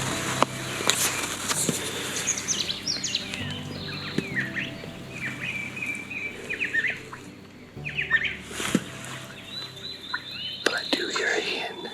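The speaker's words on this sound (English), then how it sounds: "But I do hear a hen right behind me." A wild turkey hen yelps and clucks repeatedly at moderate distance among other birdsong, in irregular bursts of calls.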